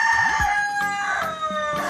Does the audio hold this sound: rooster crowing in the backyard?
yes